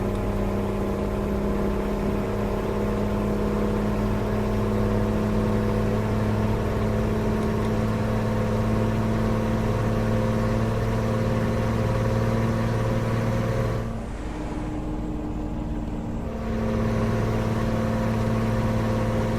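A heavy truck engine in American Truck Simulator drones at high revs in eighteenth gear, a loud steady hum that dips briefly before returning, with no talking.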